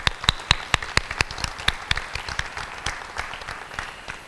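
Crowd of parents and students applauding at a 2022 school district spelling bee, with sharp distinct claps up front over a dense clapping wash that gradually thins out.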